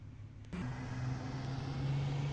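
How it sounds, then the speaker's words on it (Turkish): A bus pulls up in a pet shop simulator video game, a low engine drone that steps up after a brief shift and holds steady, moderately loud. "Böyle otobüs geliyor dostlar"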